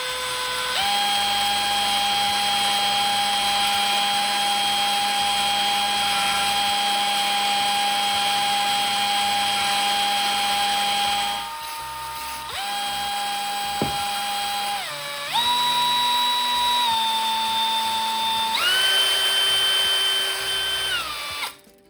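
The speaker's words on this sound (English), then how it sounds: "And I'm going to use this brake cylinder hone." A drill spins a brake cylinder hone inside a Honda XL600R motorcycle part, giving a loud, steady high whine that holds for about eleven seconds, stops briefly, then restarts in several bursts at shifting speeds.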